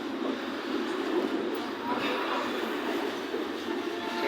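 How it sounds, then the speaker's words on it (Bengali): A train rolls across a bridge, a steady muffled rumble with faint rattling heard from on board, moderately quiet throughout. "সেতুতে উঠে পড়ছে অলরেডি ট্রেন এখন"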